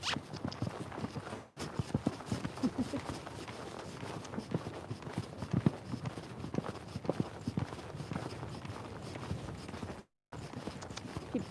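Luna, a mustang, canters around an arena with a quick, rolling three-beat rhythm of hoofbeats on soft footing, close and steady throughout.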